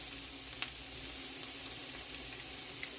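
Venison fries in a pan with a steady, dense sizzle throughout, close and moderately quiet, with a couple of faint spoon taps and no talking.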